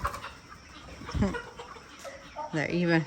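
Chickens, 11-week-old poultry on a small farm in Ghana, cluck and squawk nearby against a busy background of farmyard noise, with a louder burst of clucking near the end.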